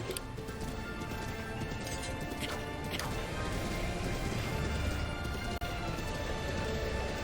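Rhythmic hoofbeats of a galloping horse in the video game Breath of the Wild pound under a constant noisy background, with a sharp click near the end.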